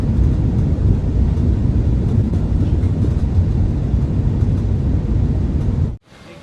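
Deep, loud engine and air rumble inside an airliner cabin as the plane descends to land at an airport, heard for six seconds before dropping abruptly to near silence.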